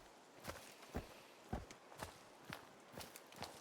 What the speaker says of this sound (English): Hearing footsteps behind me?